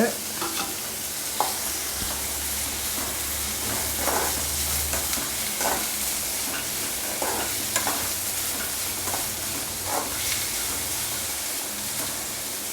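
Onions, green chillies and curry leaves sautéing in a pan with a steady hissing sizzle, punctuated by regular stirring scrapes at an unhurried pace, close and fairly loud.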